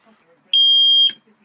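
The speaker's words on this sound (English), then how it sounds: "Smoke alarm." A smoke alarm gives a single loud, piercing electronic beep lasting about half a second, sharp and close, with quiet surroundings before and after.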